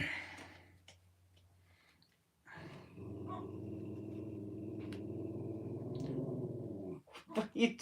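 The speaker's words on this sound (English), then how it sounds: "What are you doing, dog? Growling is not gonna make the man go away." Dog growling in a long, low, steady rumble lasting several seconds, close by. A voice is heard briefly before and after it.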